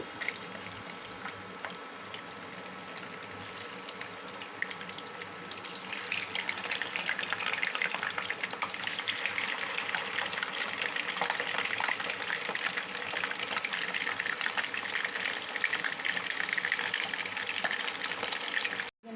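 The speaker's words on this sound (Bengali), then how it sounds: "ওই বেরেস্তা ভাজা তেলেই মাংসগুলোকে এপিড ওপিড করে ফ্রাই করে নেব" Chicken pieces fry in oil left over from frying onions, giving a steady, dense sizzle that grows louder and fuller partway through and then holds close and constant with no voices.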